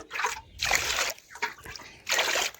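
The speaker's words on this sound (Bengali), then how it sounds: "এবার আমি আবারও জল দিয়ে দিচ্ছি" Water pours over raw rice in a bowl for washing, three separate bursts of splashing and trickling with brief pauses between, close and moderately loud, no talking.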